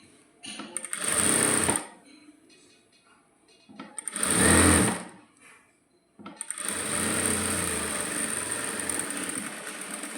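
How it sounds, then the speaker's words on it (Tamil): A sewing machine stitches a blouse sleeve in three close, steady whirring runs of stitching, the last one longest, with short quiet pauses between and no talking. "அதே மாதிரி தையல் போடுறோம்."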